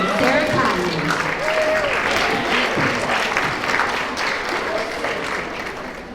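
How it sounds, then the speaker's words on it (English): Audience applause at a school awards assembly for fourth to sixth graders, a full steady round of clapping from a crowd that slowly tapers toward the end. "Join me in giving them all a round of applause."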